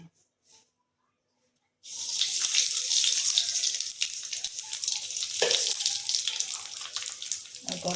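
Nigella seeds (kalo jira) dropped into hot oil while cooking mustard-poppy hilsa: after a quiet start, a sudden loud sizzle breaks out and settles into a continuous close hiss that lasts to the end.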